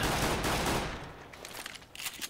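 Rapid bursts of gunfire from a pistol fight in Counter-Strike: Global Offensive, a loud dense volley at first that thins into scattered, quieter shots.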